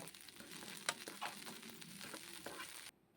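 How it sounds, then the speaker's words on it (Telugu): About ten green chillies fry in oil in a kadai, a steady close crackling sizzle with a few spoon clinks, which cuts off abruptly near the end. "కళాయి పెట్టేసుకొని నూనె వేసుకొని పచ్చిమిర్చి ఒక పది పచ్చిమిర్చి తీసుకొని వేసుకొని దోరగా వేయించుకుందామండి"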